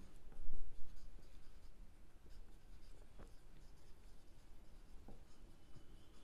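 Marker or chalk scratches across a board during an accounting lesson, a quiet, steady run of scraping strokes with a few sharper taps and no talking.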